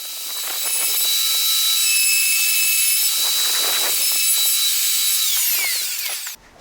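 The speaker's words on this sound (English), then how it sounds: "just moving that track saw along now, just so that I can get the 3rd bolt in" A track saw cuts steadily through a wooden kitchen worktop, a loud, continuous whining buzz of blade and wood that runs unbroken for several seconds before stopping abruptly.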